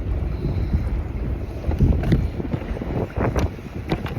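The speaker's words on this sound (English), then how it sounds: "that wind's gonna push me in a circle" Wind blasts across the microphone on a lake in Utah in a continuous low, rumbling roar that swells and dips throughout, with faint splashing of water underneath.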